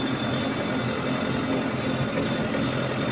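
A tractor engine working on a makeshift airstrip for planes gives a steady, even drone that holds throughout without speech.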